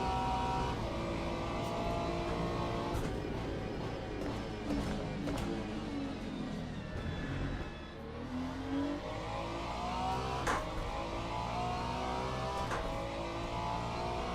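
A Ferrari race car in Le Mans Ultimate roars along at speed, its engine revving and shifting through gears in a steady, sustained drone with a brief dip in the middle.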